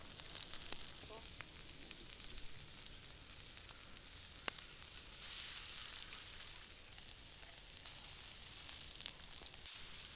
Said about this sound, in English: On a hot plate or in a cast iron pan, we sear the lard along with the sausage.